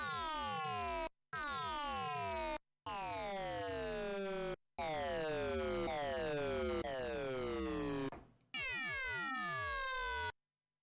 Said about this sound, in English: the ring modulator sounds like this